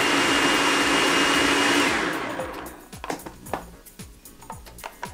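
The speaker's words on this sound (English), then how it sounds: "Throw it in the food processor," A food processor blasts raw marinara sauce, a loud steady whirring roar that runs about two seconds and then winds down. Scattered knocks and clatter follow as the blades stop, close and with no talk.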